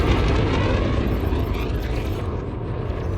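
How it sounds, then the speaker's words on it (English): Engineered frag cannons fire in the space combat game Elite Dangerous, producing a heavy, roaring blast with deep rumbling low end that stays loud and dense throughout, close up and with no voices over it. "I've never used properly engineered Frag Cannons before"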